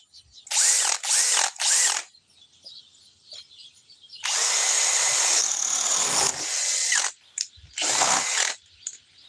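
Bosch cordless drill, running on a DeWalt 4-amp power pack, bores with a 1-inch Spider Stinger spade bit in three quick whirring bursts, then a long steady grinding run and a few final short bursts, loud and close with no talk.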